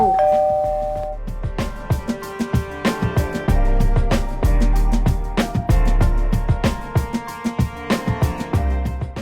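A doorbell chime rings at the entrance door of accident ward 12/1 at Phramongkutklao Hospital, a clear, fairly loud series of ringing bell tones in a repeating melodic pattern with no talking.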